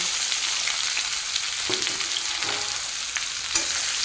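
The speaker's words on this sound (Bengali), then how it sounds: "আদার মধ্যে জল আছে এই জন্য খটখট করছে" Ginger pieces fry in hot oil for a vegetarian shukto, giving a steady, close sizzle with scattered sharp crackles and pops throughout, with no voices.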